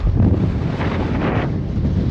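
Strong wind buffets the microphone in open Patagonian desert, a loud, continuous roaring rush with slight surges and no voices.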